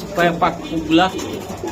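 Pigeons coo at a busy pigeon market, two or three soft, rounded calls close by, with a voice talking in the background.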